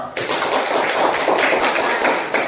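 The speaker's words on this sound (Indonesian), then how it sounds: "Beri tepuk tangan dulu buat kelompok 1" Classroom applause for a student group: a burst of many pupils clapping at once, dense and fairly loud in a room, with taps and thuds mixed in and little talk.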